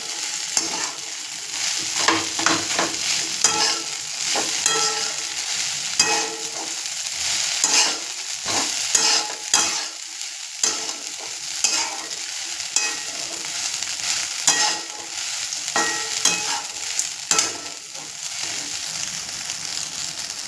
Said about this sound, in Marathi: पोहे धुतलेले धुवून ठेवलेले आपल्याला पण आता परतून घेऊया.